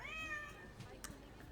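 A cat meow from the video game Hidden Cats in Berlin, one drawn-out tonal mew at the very start, quiet and close, followed by soft clicking sounds.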